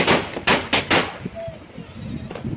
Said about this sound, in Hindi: फिर से भैया चटाई बजा रहा है